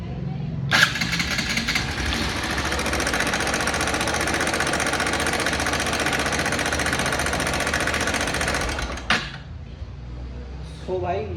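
Bajaj Pulsar NS160 motorcycle with a damaged camshaft and rocker, engine fired up and revved steadily for several seconds with a harsh, rattling mechanical clatter, then cut off, followed by faint voices nearby.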